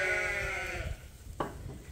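Sheep on a farm bleat at feeding time. One long, wavering bleat carries through the first second, followed by a brief, fainter call and some low rustling nearby.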